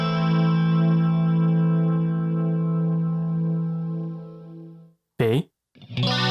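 A minor chord from a beginner guitar lesson, strummed once through distortion and chorus effects, rings out loud and sustained for about five seconds before fading. A short spoken word follows, then another voice begins.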